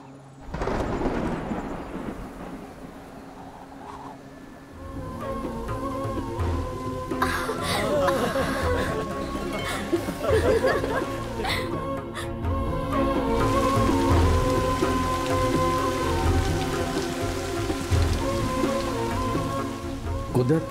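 Heavy rain pours down over a forest while thunder rumbles and cracks, a dense continuous downpour that swells louder midway with deep rolling booms; faint voices sit under the storm.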